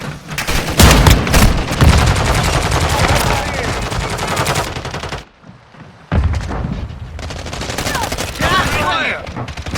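Rapid gunfire from Warzone Mobile, a shooter game, crackling in dense, loud bursts alongside booms and game effects, pausing briefly near the middle before the shooting resumes just as heavily.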